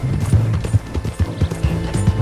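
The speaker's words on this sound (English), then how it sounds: "Sebastian, Ominous, Agrius and Gareth rode their horses as fast as they could" Horses galloping at speed, hooves clip-clopping in a loud, rapid, uneven rhythm close by, with a faint voice murmuring now and then.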